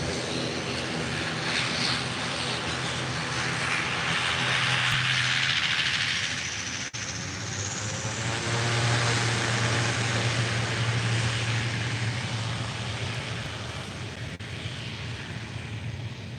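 Propeller-driven airliner departing Málaga Costa del Sol airport, a loud, close engine roar with a droning tone that swells, dips briefly and then builds again before fading slightly. No voices.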